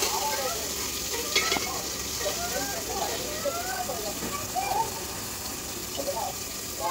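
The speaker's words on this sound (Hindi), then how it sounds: "अब खिचड़ी बना रहा हूँ मैं" Khichdi simmering and being stirred in a pot on a home stove, with a soft bubbling sizzle, scattered spoon scrapes and light clinks throughout, and a voice intermittently in the background.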